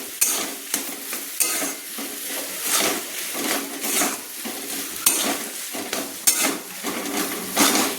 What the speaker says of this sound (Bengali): এইভাবে খুন্তি দিয়ে আলুটাকে একটু থেঁচে নিতে হবে।